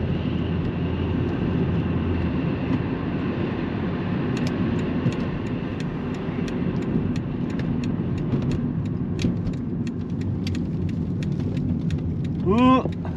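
A 2.5 litre inline five-cylinder engine in a 25-year-old Volvo 850 GLT drives along with a steady low drone from inside the cabin, joined by road and wind noise and scattered sharp ticks, with a brief rising chirp near the end.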